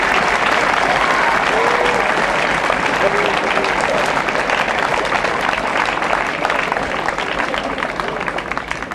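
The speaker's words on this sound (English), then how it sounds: "please give our chief guest and his wife a rousing round of applause" Audience applause at a college prize day in Lucknow, a loud, dense round of clapping from a large crowd that holds steady for several seconds and eases slightly near the end, with faint voices mixed in.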